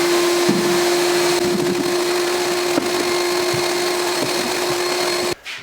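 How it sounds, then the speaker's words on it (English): A vacuum cleaner runs steadily in a boat-building shop, sucking up debris along a fillet near the outwale: a loud, continuous, even whine and roar that cuts off abruptly at the end. "Now we'll just vacuum it up."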